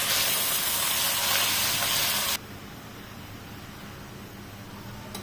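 Malabar spinach sizzles loudly in a hot pan, stirred with dried fish in a village kitchen. Steady hissing fries on, then drops suddenly to a quieter, constant simmer.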